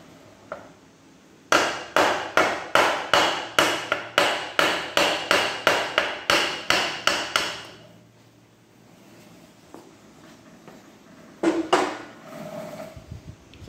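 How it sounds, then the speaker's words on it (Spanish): A nylon hammer taps repeatedly on a Vespino NL moped engine during seal fitting, about a dozen sharp, evenly spaced knocks close up, followed by quieter handling noises and a couple more taps. "Y ahora con unos toquecitos, con el martillo de nylon."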